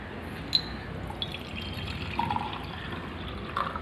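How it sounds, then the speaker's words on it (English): Water poured into a glass beaker set on wire gauze atop a stand for a water bath, a faint steady trickle with small splashy drips under quiet room noise. "In that beaker we should pour some water."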